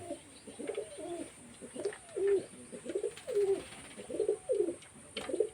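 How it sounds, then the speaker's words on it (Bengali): Pigeons bathing on a wet rooftop give a steady run of soft, throaty coos, repeating every second or so at moderate loudness with a faint background hiss and no voices. "যত পায়রা চান করবে তত পায়রা ফ্রেশ থাকবে"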